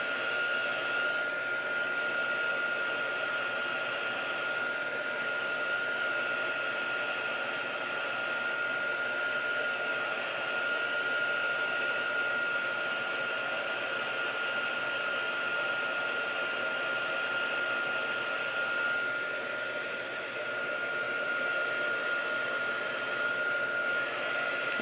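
A craft heat tool blows hot air in a steady, close whirring roar with a constant high whine, unbroken throughout.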